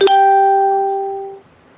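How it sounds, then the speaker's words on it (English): A single ritual bell (endundo) used in Palo Mayombe practice is struck once near the mic, its clear metallic ring with steady overtones sustaining and slowly fading over about a second and a half. "The endunda, you talking about the bell?"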